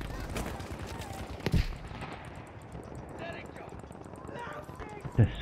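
Battlefield 5 MMG machine gun fire in a multiplayer match: sustained bursts of gunfire with a couple of sharper loud shots, mixed under game noise and occasional background talk.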